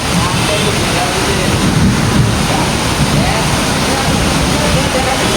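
Steady, dense roar of heavy rain pouring continuously, loud and close, with a faint voice now and then beneath it.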